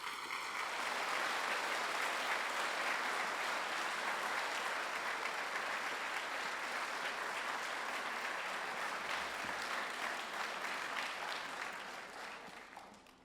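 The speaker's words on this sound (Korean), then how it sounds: "오래간만에 오니까 박수가 좀 더 길어진 것 같습니다." A church congregation's sustained applause welcoming a visiting pastor to the pulpit, a dense, steady wash of many hands clapping that keeps going for a long stretch and then fades at the end.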